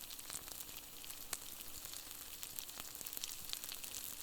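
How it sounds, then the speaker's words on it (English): Cowboy butter sausages sizzle steadily on a grill in a soft, even hiss with small crackles and pops scattered throughout, heard up close and on its own. "When you're ready, unlink your sausages and grill them up how you like."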